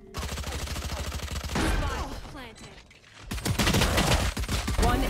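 In the video game Valorant, a burst of rapid gunfire plays during a competitive match, followed by a brief lull, then more shots and game sounds that stay loud and close.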